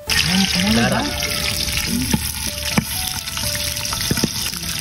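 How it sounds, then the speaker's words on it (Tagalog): Whole chili peppers and garlic fry in hot oil beside pork and chicken, a constant loud sizzle broken by several sharp pops and crackles, while someone talks over it. "pumuputok yung mga sili natin dyan"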